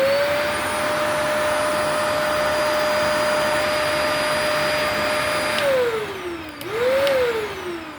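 A Shark Navigator NV130S4 upright vacuum cleaner runs with a steady high whine, then its pitch dips and rises again as it shifts near the end. No talking.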